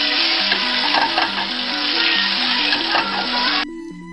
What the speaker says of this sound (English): That sizzling is what you want to hear when those shrimp hit the pan.